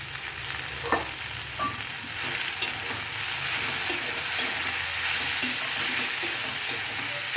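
Jute leaves frying in a pan with previously fried prawns added for a fish chorchori, a dense continuous hiss of oil with occasional light spatula scrapes, close and unaccompanied by speech.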